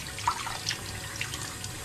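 Cold tap water runs into a sink while hands are washed, a soft steady trickle with a few small splashes and drips, fairly faint and with no talking.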